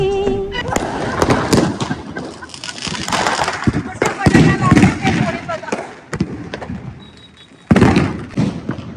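Green Diwali firework bursting outdoors, a string of sharp pops and thuds crackling in quick succession, with a loud final bang near the end while people talk and shout nearby.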